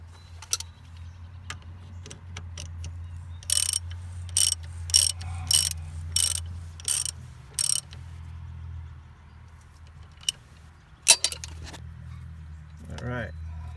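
Ratchet clicks on a brake cable bracket of a Mazda Millenia during lateral link work: a run of about eight sharp, evenly spaced ratcheting bursts, then a few scattered clicks over a steady low hum.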